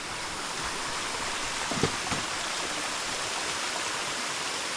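A mountain stream in the Knuckles Mountain Range rushes steadily as a constant broad hiss of flowing water, close and even throughout, with one or two faint knocks partway through.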